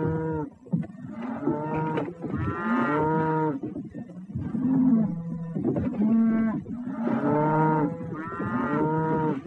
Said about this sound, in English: I hear cattle move.